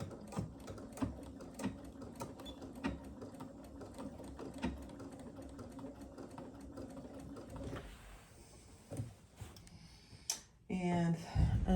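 A domestic sewing machine stitches a lined fabric valance with a steady rapid mechanical whir and ticking, running continuously for several seconds before stopping, followed by handling clatter and brief fumbling noises.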